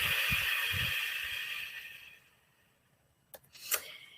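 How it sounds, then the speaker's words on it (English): A strong whooshing breath pushed out through the mouth, a close breathy rush that fades over about two seconds, followed by quiet and a couple of small soft sounds. "you're going to exhale audibly out through your mouth. And making that strong whooshing sound"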